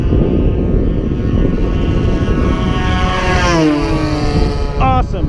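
A 20cc gas model airplane engine runs at full throttle with a loud, continuous high buzz, its pitch sweeping as the plane flies past and then holding steady.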